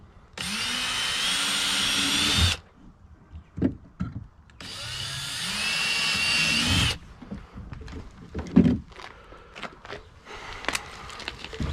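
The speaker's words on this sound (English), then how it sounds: "I'm just going to drill holes through the three mounting points on the flush rod holder" Two long whining bursts of a power drill boring mounting holes in a kayak rod holder, each lasting a couple of seconds, followed by scattered clicks, taps and handling noises.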